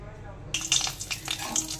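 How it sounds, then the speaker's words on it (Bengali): Lentil dumplings (bori) fry in mustard oil in a wok, starting with a sudden hiss and followed by light, uneven sizzling and spattering, fairly quiet and close. "কয়েকটা বড়ি দিয়ে দিয়েছি, বড়িগুলো একটু ভেজে তুলে রাখবো"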